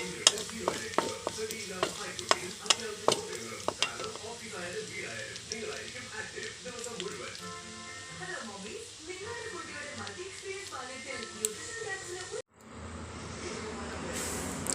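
Mustard seeds, onion, curry leaves and chilli fry in hot oil as a tempering for a fish curry. The sizzle is steady, with sharp popping crackles early on, and it cuts off abruptly near the end.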